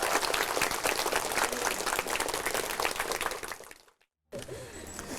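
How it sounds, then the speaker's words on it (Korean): A gathering of pilgrims at a sacred site applauds the head monk, dense, close clapping that fades out near four seconds, drops to brief silence, then gives way to quieter background sound. "우리 여기 주지 스님한테 박수 한번 쳐드려"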